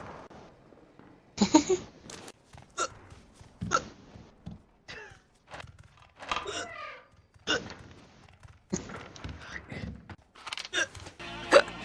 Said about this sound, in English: we meet a man who's been hiccuping for 45 years